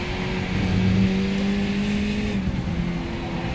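Several race car engines in a racing video game at Okayama circuit hold steady tones that rise and fall through gear changes, with a brief tire lock-up under braking and no talk.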